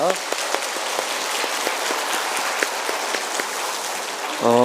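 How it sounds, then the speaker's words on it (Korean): A church congregation at a Wednesday evening service applauds with even, continuous clapping that sounds like steady rain, and a voice cuts in briefly at the very end. "다시 한번 감사의 박수 하겠습니다"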